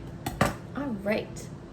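Potatoes shaken on a metal baking tray in a home kitchen before going into the oven, giving a few brief clattering rattles and metallic clinks up close, with a faint voice-like sound in between.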